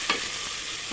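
Onions fry with cloves and cardamom in oil in a wok, giving a bright, close, continuous sizzle. One sharp scrape of stirring comes near the start of the short burst.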